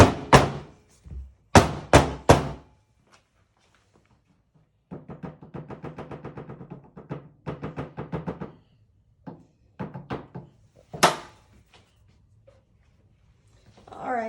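Soap molds are banged on a counter to drive out air bubbles, making sharp, loud knocks in quick bursts and then a steady run of rapid rattling thumps, followed by a few more scattered hits.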